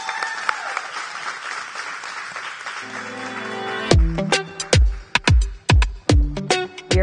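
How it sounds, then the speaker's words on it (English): An audience at a product pitch night applauds a presenter, clapping that starts as a dense wash and thins to a few loud, close individual claps toward the end. "Give a round of applause to Kanika Joseph."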